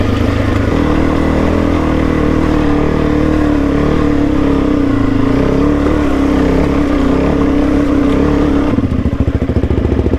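A 4WD engine labours up a steep mountain track in Victoria's High Country, revving steadily at a loud, close, sustained drone with a rough shift in tone near the end.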